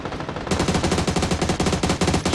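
Loud, fast automatic gunfire in a ranked PUBG match, a steady rapid string of close shots starting abruptly after a short lead-in and continuing to the end, with no talking over it.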